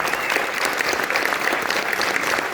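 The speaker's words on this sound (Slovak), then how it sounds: "Privítame ju potleskom." An audience gives steady, dense applause to welcome a young brass band at an outdoor brass music concert. The clapping is loud and sustained throughout, with no break.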